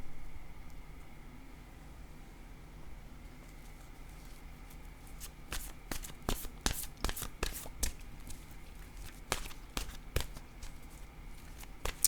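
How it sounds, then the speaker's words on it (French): Oracle cards are shuffled by hand, with soft riffling in quiet at first and then a quick run of sharp, close card snaps and flutters that grows denser toward the end. "Je vais piger une carte maintenant de mon oracle de l'âme intuitive."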